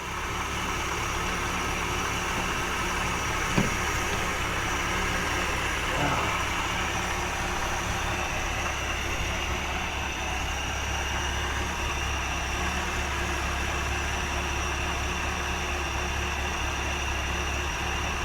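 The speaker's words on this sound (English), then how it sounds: "We're gonna let this sucker idle for just a little while." An old car engine, sat unused for over 30 years, idles steadily with a low, even rumble throughout, with a couple of brief clanks partway through.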